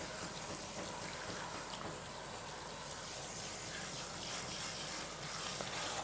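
Water runs steadily from a salon shampoo sink sprayer while hair is being washed, a constant close hiss and splash that stays even throughout.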